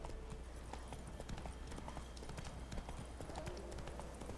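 Roach, a horse in The Witcher 3 video game, clip-clops in a steady, faint hoof rhythm that continues throughout.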